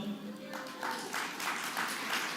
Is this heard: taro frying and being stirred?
no